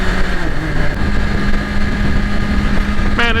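A BMW S1000RR motorcycle engine drones steadily while being ridden, a loud, sustained buzzing hum with wind noise, close up, with a rising whine near the end.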